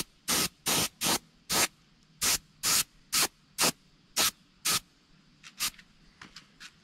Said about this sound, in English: Now we're going to spray just a little dark along the back.